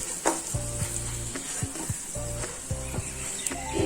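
Green banana fritters coated in rice flour fry in hot oil, giving a steady close sizzle with crackling pops and short bursts throughout.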